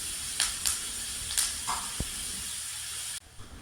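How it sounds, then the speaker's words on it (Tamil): Chopped onions dropped into hot melted butter for a butter chicken gravy, giving a steady loud sizzle and hiss with a few sharper spits, then cutting to a quieter level near the end. "வெண்ணெய் நல்லா காய்ஞ்ச உடனேங்க நம்ம அரிஞ்சு வச்ச வெங்காயத்தெல்லாம் போட்டுக்கலாங்க. அதில் போட்டு நல்லா வதக்கிக்கலாங்க."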